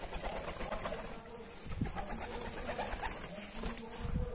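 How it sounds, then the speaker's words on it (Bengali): Rajshahi Giribaz pigeons coo in a loft, soft low throaty calls repeating a few times over a faint background hum, with no one talking. "এগুলো আমার কবুতর।"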